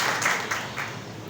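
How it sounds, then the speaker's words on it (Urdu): A church congregation claps together in a short, fairly soft burst of applause during a worship service, a few accented claps standing out from a steady patter. "زوردار تالیاں خدا کے جلال کے لیے بجائیں۔"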